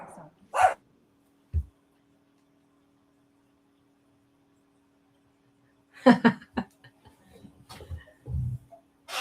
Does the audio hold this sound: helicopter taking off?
no